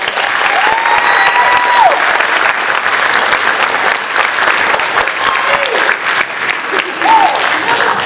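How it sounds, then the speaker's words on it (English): Loud, sustained applause for middle school honor roll students at an academic honors ceremony, dense crowd clapping from start to finish with a few voices and faint cheers mixed underneath. "Let's give them a big round of applause"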